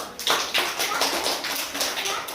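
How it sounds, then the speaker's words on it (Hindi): Children clap their hands at a school summer camp activity, a few sharp claps ringing out together in a quick, uneven burst over a room-like background. "ताली बजाओ।"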